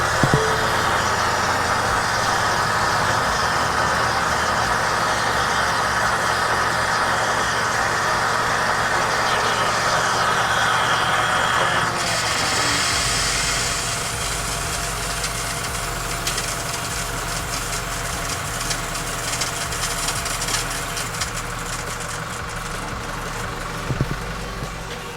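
A Powerstroke diesel truck with fresh fuel filters sits in accessory mode while its fuel system runs and primes, giving a steady loud mechanical hum and drone that drops to a lower, quieter level about halfway through, with no talking.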